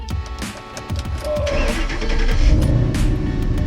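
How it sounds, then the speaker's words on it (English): A 2012 Ford Mustang GT with the 5.0 engine is started on a cold winter morning: a few quick cranking bursts, then the engine catches and settles into a loud, rumbling idle close by. "Let's get this car started."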